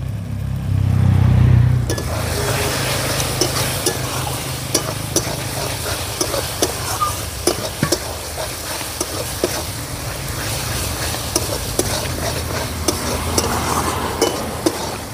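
Spice masala being stirred in a pan with salt and turmeric powder for an egg curry: a dense, continuous sizzle with frequent sharp scrapes and taps of a spoon against metal, close and fairly loud, after a brief low rumble at the start, no speech.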